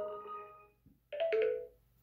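SMS notification tone on a OnePlus 6 phone: a clear two-part alert, a sustained electronic tone and then a brighter chime burst, played alone and fairly close.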